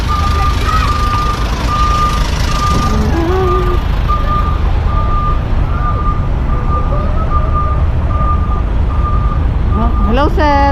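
A demolition truck reverses during a Manila clearing operation, its backup alarm beeping in a steady repeating rhythm over loud engine rumble and street noise, with people talking nearby and an air-brake hiss near the end.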